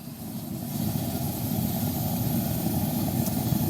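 Cast Masters propane furnace burner roaring steadily while melting metal in a 5 kg crucible, a constant deep rumbling flame with a broad hiss, close and unbroken throughout.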